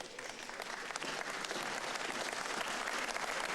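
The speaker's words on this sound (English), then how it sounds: "You can see how knowledgeable this audience is because they know exactly when to clap or when to shut up" Audience applause at a carom billiards match: steady, dense clapping from a crowd indoors, sustained and fairly soft throughout.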